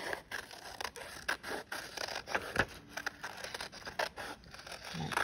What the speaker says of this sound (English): I'm going to take my scissors and I'm going to cut this out.